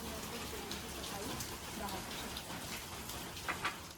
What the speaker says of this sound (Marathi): पाऊस आहे ना येऊन जाऊन आहे